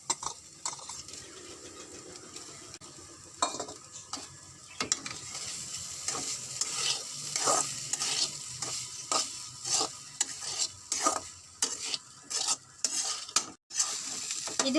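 Grated carrot and cooked rice get sautéed in a pan, quiet continuous frying under a busy run of stirring scrapes and taps from a spatula that grow quicker and denser toward the end, with no talking.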